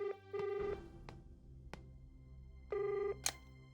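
An indoor telephone rings twice in short electronic bursts, separated by a pause, with a few soft knocks and faint room noise between the rings.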